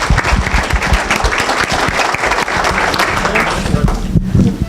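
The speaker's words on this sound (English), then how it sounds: "So a round of applause for our sponsors." A seated audience at a talk on global health gives a loud, dense round of applause that runs throughout, close by, with a little mixed-in voice noise.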